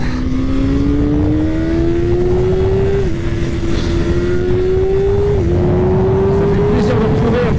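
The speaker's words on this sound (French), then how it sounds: "bienvenue sur le circuit d'Alès au guidon de cette ZX6R 2024" A 2024 Kawasaki ZX-6R four-cylinder sport bike at full throttle on the Alès race circuit, its engine note climbing steadily in pitch through the gears with two brief dips at upshifts, loud, close and continuous.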